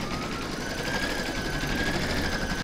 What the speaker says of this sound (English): I'm now going to pop my hoop into my machine and stitch round number 1